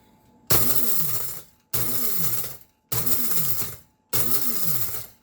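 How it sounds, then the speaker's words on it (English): Dehydrated canned pumpkin whirs in a small electric coffee grinder, run in four loud pulses of about a second each with brief silences between, each burst starting with a rising whine and a rattling grind. "Something to know about your coffee grinders like this, they are not meant for long-term, just run it, run it, run it, run it, run it."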